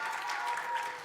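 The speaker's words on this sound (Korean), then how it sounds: "박수!" A church congregation at a Korean Sunday service bursts into applause, a brief, even patter of many hands clapping together at moderate volume.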